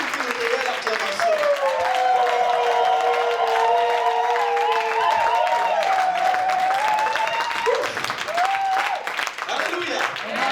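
A church congregation applauds and cheers loudly, with sustained clapping and whoops over a few voices and some musical tones, continuous for about ten seconds.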